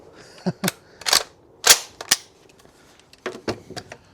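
An M14 rifle fires cheap .308 Winchester ammunition outdoors, a series of sharp, close gunshots in two uneven groups with brief pauses between them.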